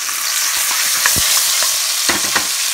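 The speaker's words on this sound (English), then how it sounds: "the garlic is already roasting underneath, which also brings the flavor" Garlic and Madras curry powder fry in a pot, a steady bright sizzle with scattered pops and crackles and a few stirring scrapes, close and alone with no voices.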